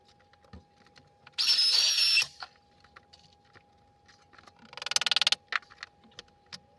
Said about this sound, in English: So I'll set you up and I'll get drilling.